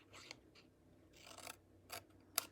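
Scissors cut through scored cardstock for a Halloween treat box in several short, quiet snips and rasps spaced unevenly, close by in a hushed room, ending with one sharper click.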